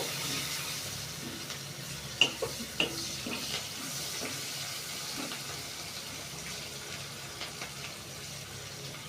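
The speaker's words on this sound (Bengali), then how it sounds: "পেঁয়াজ কুচি দিয়ে এটা নাড়াচাড়া করবে সুন্দরভাবে গোল্ডেন ব্রাউন হওয়া পর্যন্ত" Chopped onions fry in oil in a wok for a mutton dish, a soft low sizzle with a few sharp clacks and scrapes of stirring early on, then quieter, steadier frying.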